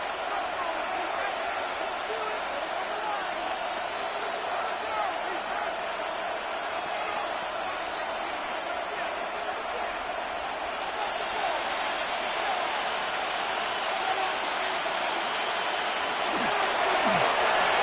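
A football stadium crowd roars steadily throughout a New York Jets versus Jacksonville Jaguars game, a dense continuous wash of noise that swells slightly near the end, with a commentator talking over it.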